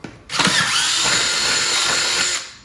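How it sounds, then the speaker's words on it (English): A power drill fitted with a 3/8 inch bit bores a hole in one continuous, close, high whining burst of about two seconds that starts and stops abruptly. "I'm going now with a 3/8" drill bit."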